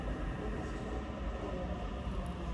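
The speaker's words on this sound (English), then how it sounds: "So come with me on a short train ride." Steady rumbling roar of a train ride through a suburb, heard from inside the carriage: constant low wheel and track noise with a faint high whine, no voices.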